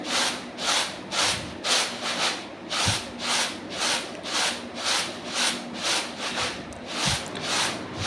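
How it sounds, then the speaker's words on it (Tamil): Ration wheat is shaken and tossed in a tray to winnow out dust. A rhythmic swishing and rasping of grain repeats roughly twice a second throughout, close and moderately loud, with a few light knocks, and no voices. "எவ்வளோ டஸ்ட்டு எல்லாம் வெளியில் வருதுன்னு இது மாதிரி நல்லா புடச்சி எடுத்துக்கலாம்"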